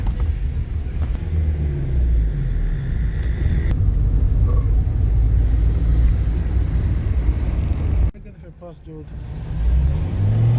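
A car's engine hums and rumbles steadily while a learner drives on a rural road, the low drone lasting throughout with a brief dip near the end.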